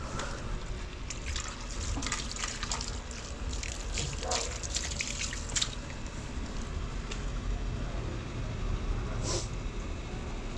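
Strong current of water rushing through a drainage channel, a steady broadband wash with splashing and gurgling bursts throughout, fairly close, with no one talking.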